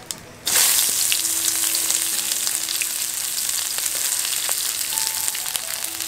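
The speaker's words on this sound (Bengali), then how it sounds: "পেঁয়াজটাকে হালকা বাদামি করে ভেজে নেব।" Chopped onion hits hot oil with dried red chili, bay leaf and whole cumin, bursting into a loud, close, continuous sizzle that holds steady after a brief quiet start.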